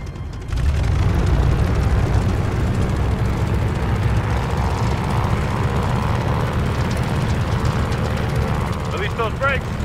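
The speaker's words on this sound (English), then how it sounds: "All right, here we go. Full power." A propeller warplane's engine roars at full power for takeoff in the video game Call of Duty: Vanguard, a loud, steady, dense drone that rises abruptly and holds for the whole stretch.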